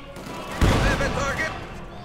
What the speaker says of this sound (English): they hit the mine, getting wiped out